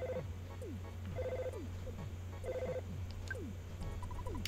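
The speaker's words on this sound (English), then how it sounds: "Let's answer the phone." Repeated electronic telephone ring from the EarthBound video game, bursts of chiming tones returning in a steady rhythm over a constant low game hum with chirpy background effects, no voices.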